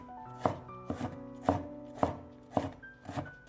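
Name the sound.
knife dicing peeled carrot into small cubes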